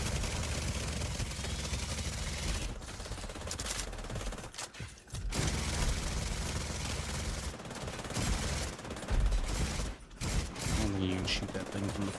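Sustained shooting fills a battle in The Division 2, with sniper turrets firing amid heavy, constant gunfire that stays loud and dense throughout and drops out only in short gaps.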